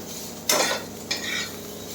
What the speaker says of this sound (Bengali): উচ্ছে ভাজাটা মচমচে করবো, বেশ ভালো, বেশ হবে।